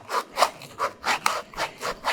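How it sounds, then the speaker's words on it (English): 120 grit 3M sandpaper rubs back and forth over a metal edge on an offroad accessory mount, eight or nine even, rhythmic rasping strokes, close and fairly loud with no talk. "this is like 120 grit, piece of 3M. This isn't going to be a real rough sand."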